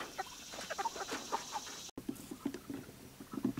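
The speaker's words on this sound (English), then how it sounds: "I have four roosters and three hens" Soft clucks and small chirping calls come from a homestead flock of four roosters and three hens kept in a tractor enclosure with netting, heard in quick irregular bursts at close range over a quiet background.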